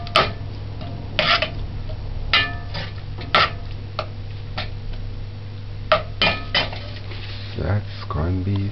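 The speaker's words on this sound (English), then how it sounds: "And just stir it." Metal utensil scraping and clinking against a pan while corned beef with green peas and a little ketchup is stirred, a series of close, uneven taps and scrapes over a low steady hum.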